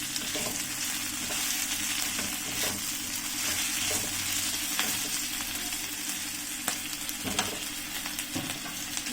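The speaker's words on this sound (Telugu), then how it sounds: "కొంచెం క్యాప్సికమ్ వేగితే సరిపోతుంది." Capsicum frying in a pan for gobi chilli, a steady loud sizzle that holds throughout, with occasional stirring scrapes and clinks close by and no talking.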